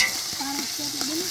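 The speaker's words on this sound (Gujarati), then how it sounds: "ગુંદા અને ડુંગળી તેલમાં એકદમ મસ્ત મજાની શેકાઈ ગઈ છે" Gunda (glueberries) and onions frying in hot oil in a village kitchen, giving a steady close-up sizzle with a few light stirring scrapes and no talk.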